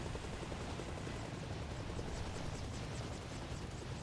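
A helicopter in the video game Arma Reforger drones with a dense, steady rotor and engine roar that holds constant throughout, fairly quiet overall, with no voices.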